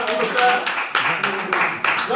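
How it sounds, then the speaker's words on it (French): Audience clapping to welcome a new woman teacher at a reception event, irregular claps building over about two seconds with voices mixed in underneath. "Applaudissez la dame."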